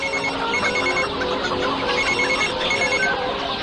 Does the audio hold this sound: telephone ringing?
yes